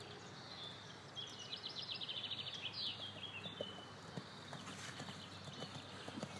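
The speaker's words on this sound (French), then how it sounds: "Galope un tout petit peu plus." Horse hooves clip-clop in a steady cantering rhythm during a riding lesson, moderately close, with outdoor birdsong chirping above and no talk over it.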